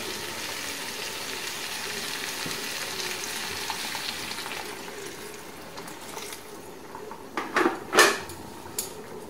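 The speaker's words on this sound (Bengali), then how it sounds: "আমি এবারে দিয়ে দেবো ঈষদ উষ্ণ জল" Masala frying in a pan gives a steady sizzle that thins out, then lukewarm water is poured in with a short burst of splashing and hissing and a clink or two of the vessel near the end.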